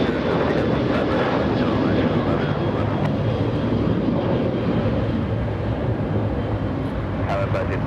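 An airliner takes off from a runway at LAX, a loud, continuous broadband jet roar that stays strong throughout, with tower radio chatter over it.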